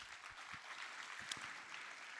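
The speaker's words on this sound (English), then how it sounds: "here comes the clapping" Applause from an audience at a hackathon closing ceremony forms a faint, distant wash of clapping that holds steady for a couple of seconds with a few sharper claps standing out.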